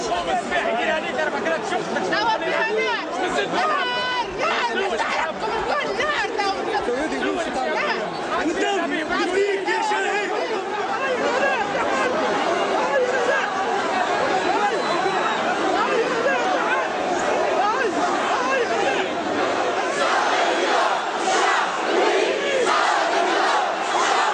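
A massive protest crowd fills a Tunisian street, a loud, dense roar of many shouting and chanting voices that goes on without a break throughout.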